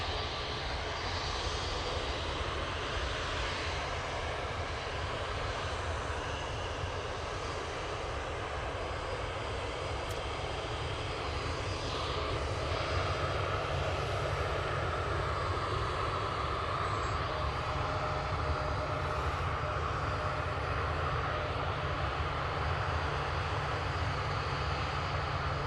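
An Emirates airliner at Manchester Airport makes a continuous, distant jet-engine roar that holds steady for about twenty-five seconds, with a faint rising whine partway through and no speech.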